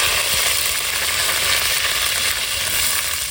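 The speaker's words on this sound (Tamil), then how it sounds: "கடுகு சும்மா பொரியுது" Mustard seeds spluttering in hot oil give a steady, dense crackling sizzle, close and continuous from start to finish with no talk over it.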